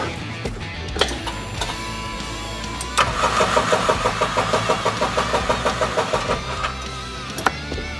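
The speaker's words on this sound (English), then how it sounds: "I'm going to prime this engine by rotating over with the service engine fuse out." A Stampede 900 engine cranks over steadily with its service engine fuse pulled, priming oil without starting, a fast, regular rhythmic chugging from the starter, loud and close, with no talk.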